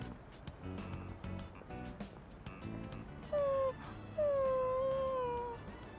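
Dog whimpering and howling in Persona 3 Reload: two long, rising-and-falling whining howls in the second half, loud over background game music and earlier muffled talk.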